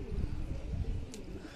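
Pigeon on a rooftop gives a brief, soft, low cooing, a couple of muffled throaty pulses close by, with faint background noise.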